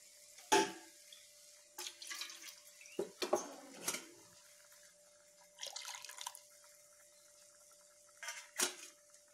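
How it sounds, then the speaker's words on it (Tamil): Soft splashes and drips of water poured into a cooking pot in short bursts with pauses, faint and close, with an occasional metallic clink. "இன்னும் கொஞ்சம் கூட தண்ணி ஊற்றுறேங்க நான்."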